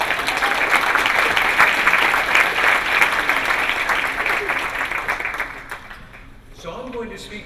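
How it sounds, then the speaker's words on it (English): An audience at a plenary session on chronic-condition treatments gives a speaker loud, sustained applause. The clapping slowly fades out, and a voice then starts talking. "So if you join me in giving him a round of applause"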